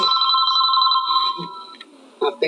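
A telephone rings loudly and close with a steady two-tone electronic trill during a Topeng Maja comedy stage performance, then cuts off as brief voices and clatter follow.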